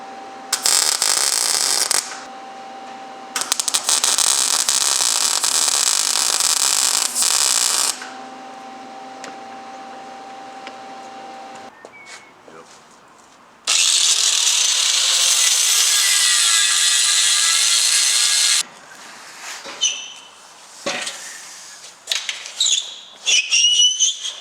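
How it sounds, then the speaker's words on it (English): Welding over cracks and grinding the weld flat on a replacement subframe for a Z car, heard as several long, loud, harsh grinding passes with a whining tone, broken by quieter gaps and a few short bursts near the end; no talking. "we're just going to go ahead and lay some weld over it and then grind it all flat"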